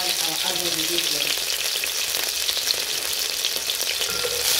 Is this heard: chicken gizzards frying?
yes